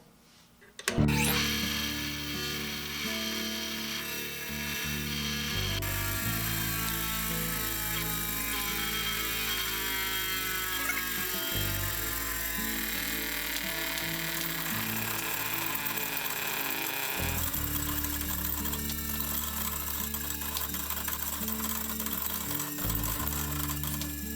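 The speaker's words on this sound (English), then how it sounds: "I'm going to sharpen this 17/64 drill." A steady high-pitched grinding whine runs continuously after a sharp start, with a low motor hum underneath, as a chipped 17/64 drill bit is sharpened on a machine.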